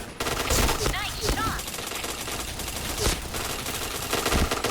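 Bursts of APC9 submachine gun fire in an online shooter, loud rapid volleys starting and stopping several times with a sharp sustained burst near the end, mixed with game effects and faint voices.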